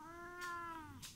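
A cat gives one clear, close, quiet meow.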